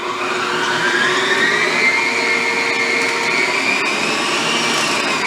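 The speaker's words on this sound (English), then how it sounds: "I'm just going to mix up my butter real quick to make sure it's soft and creamy" An electric mixer creams softened butter for cookie dough, a loud continuous whirring motor hum that holds steady throughout, up close and with no talking.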